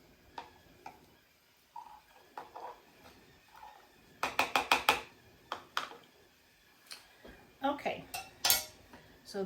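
Metal spoons and cutlery clink and rattle in a kitchen drawer, a few light taps at first, then a quick cluster of bright jangles and a final flurry of clatter.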